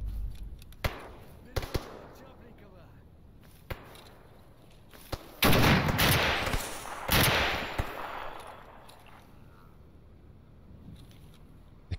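Gunshots in STALKER Anomaly: a few isolated sharp cracks, then a dense loud burst of rapid fire, then scattered shots fading to a quiet backdrop, with a voice speaking at times.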